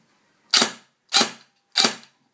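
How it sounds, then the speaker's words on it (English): Three sharp, evenly spaced mechanical snaps, each a crisp click with a brief decaying tail, from a Systema PTW airsoft rifle dry-firing on semi-automatic one shot at a time. "You can dry fire on semi."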